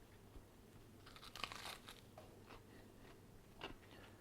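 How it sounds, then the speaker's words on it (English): Faint, crisp crunches of someone biting into crispy grilled arayes, Lebanese meat-stuffed street-food bread, come as a few quiet bites and crackles over low background hiss. "So hopefully you can hear the crunch and get a little bit of that ASMR."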